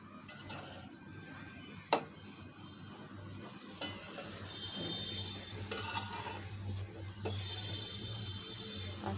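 Zarda semai, a sweet vermicelli dish, being stirred in a cooking pot, with a spoon occasionally clicking and scraping against the metal over a steady low stove hum.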